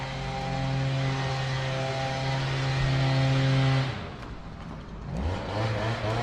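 An engine-powered leaf blower clears leaves off a sidewalk with a loud, steady droning roar that drops away briefly and then returns with a shifting pitch.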